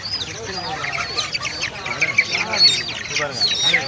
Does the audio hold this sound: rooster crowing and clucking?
yes